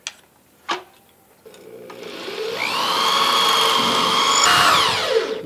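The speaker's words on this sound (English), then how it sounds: "I got to drill a hole in through this beam all the way up into here" After a couple of sharp knocks, a power drill spins up with a rising motor whine and holds a steady, loud buzz as it bores through a wooden beam.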